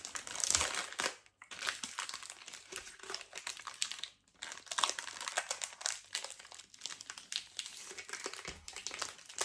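Paper crinkling and crumpling almost nonstop while a diamond painting kit is unpacked, close and fairly loud, with a few short pauses.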